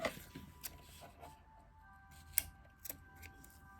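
Scissors snipping through ribbon while making a small laminated traveler's notebook, a few crisp, faint cuts spaced irregularly against a quiet room.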